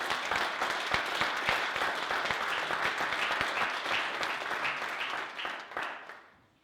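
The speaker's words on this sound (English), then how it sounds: "Great, round of applause." An audience at an Internet of Things meetup in Edinburgh gives a full round of applause: dense, steady clapping close by that carries on for several seconds and then fades out at the end.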